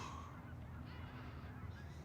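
A flock of Canada geese honks in the distance over an open park, faint repeated calls drifting in over steady outdoor background noise.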